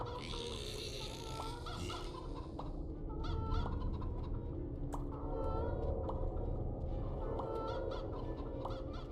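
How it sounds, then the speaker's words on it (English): Video game chicken sounds from Poppet Quest, a 3D Metroidvania: continuous overlapping clucks and squawks mixed with game effects and busy background sound, steady and moderately loud throughout. "The chicken noise is not that funny to hear."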